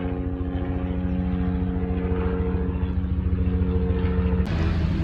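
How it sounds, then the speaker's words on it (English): A news helicopter passes overhead with a steady, throbbing rotor drone that stays loud and continuous, with no voices heard. "That doesn't look like a water helicopter. It looks like one that's for the news"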